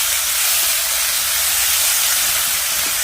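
Spice paste for an egg curry sizzles in a hot pan, a steady, dense hiss that stays even and loud throughout with no talking.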